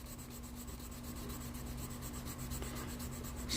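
Steady, soft rubbing of wet sandpaper by hand across the smooth, painted body of an old Chevy, cutting through the dull coat in continuous back-and-forth strokes, with a faint electrical hum underneath.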